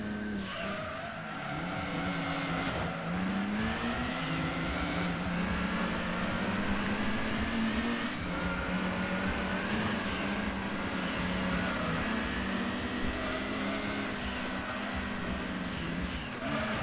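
Race car engines from the Gran Turismo 2 video game, including Nissan Sylvias running three wide, drone and rise through gear changes. Tires squeal and skid over a continuous, loud engine roar with no talking.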